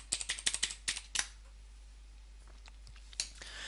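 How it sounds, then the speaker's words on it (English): Keys clatter on a computer keyboard while a read-only password is entered to connect to a WatchGuard XTM virtual appliance: a quick burst of close, crisp clicks, a pause, then a few scattered taps. "I'm typing the read-only password"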